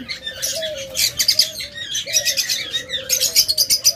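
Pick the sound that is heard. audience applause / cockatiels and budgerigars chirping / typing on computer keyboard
cockatiels and budgerigars chirping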